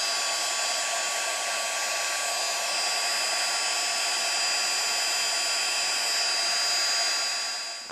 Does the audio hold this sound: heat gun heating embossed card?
yes